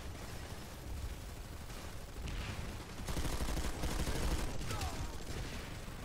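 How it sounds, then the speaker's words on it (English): Game gunfire from an SV-88 light machine gun in PlanetSide 2, with dense, continuous bursts of rapid shots amid battle noise, sounding loud and close throughout. "But the SV-88 is, of course, still a very good gun."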